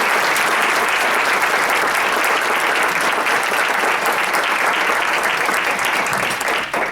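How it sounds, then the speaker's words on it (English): Sustained round of applause from a crowd at a mentor appreciation luncheon, a full, even wash of many hands clapping that holds steady for about seven seconds, with no voices on top. "If everyone can help me give him a round of applause."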